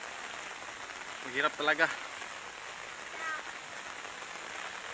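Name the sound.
rain falling outdoors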